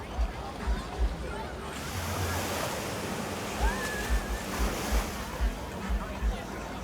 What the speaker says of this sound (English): So now reach Pebbles Beach.